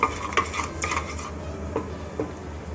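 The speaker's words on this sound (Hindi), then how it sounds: "इसे अच्छे से मिक्स कर लेंगे, अच्छे से भून लेंगे इसको" Cloves, black cardamom and cumin stirred and roasted in a pan with a metal spoon, several sharp clinks and scrapes against the pan at irregular intervals over a faint low hum, no talking.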